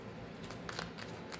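Faint, steady riffling of tarot cards being shuffled by hand, a brief continuous patter heard alone at low level.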